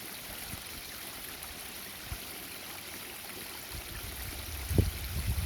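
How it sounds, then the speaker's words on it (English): A small backyard waterfall flows down past a log, giving a continuous even rushing trickle close to the microphone, with a couple of faint bumps and a slightly louder splash near the end. "you can see my waterfall in full glory."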